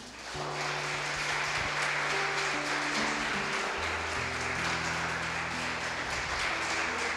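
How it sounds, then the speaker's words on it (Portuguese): A church congregation claps for Jesus during a worship service, a sustained roomful of applause that holds steady for several seconds while low organ or keyboard chords sustain beneath it. "Dê uma salva de palmas para Jesus."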